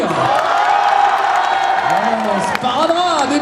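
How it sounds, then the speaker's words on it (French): A convention audience at a Japan-themed event cheers and claps loudly, a crowd roar with whoops and applause, while a voice speaks over it on an amplified system. "Nous avons Bob Lennon, vous pouvez l'applaudir."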